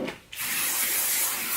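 A brief thump, then a steady, close rustling swish, like hands shaking and tousling hair, continuing without a pause.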